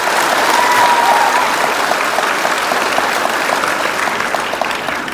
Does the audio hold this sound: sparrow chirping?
no